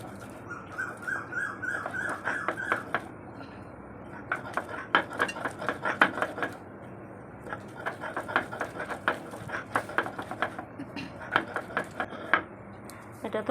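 Boiled potato, pointed gourd and egg bhorta being mashed together by hand in a bowl, a steady run of soft squelching thumps and light scraping taps close up, with brief clinks of dishware.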